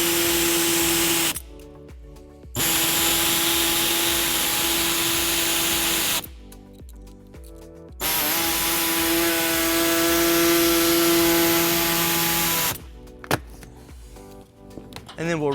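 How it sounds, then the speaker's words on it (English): An air saw cuts the plastic bumper fascia of a 2017 Fiat 500 Pop/Lounge, giving a loud steady buzzing whine in three long runs separated by short pauses, close up with no talk. "we'll be using an air saw to cut that out"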